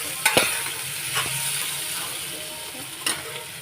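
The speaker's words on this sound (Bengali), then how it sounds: "আলু দিয়ে মশলাটা ফ্রাই করছি" Spice paste frying with potatoes in a pan gives a quiet, steady sizzle, broken by a few sharp clicks and knocks of a utensil against the pan.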